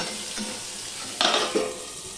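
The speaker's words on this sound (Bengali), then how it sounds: "আমি ঢাকা দিয়ে দিয়ে কচুটা ফ্রাই করে নেব" Mankochu taro fries in a covered pan with a constant close sizzle, and two quick clattering bursts of lid or utensil against the pan cut in near the end.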